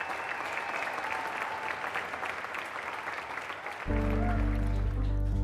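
Theatre audience applauding ballet dancers with dense, rushing clapping that runs for about four seconds before giving way to a loud, sustained low musical drone.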